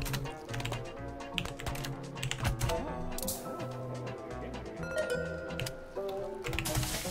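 Rapid typing on a computer keyboard during a cooking game session, with dense, irregular clicks and clacks from keys close by, heard alone and steady throughout.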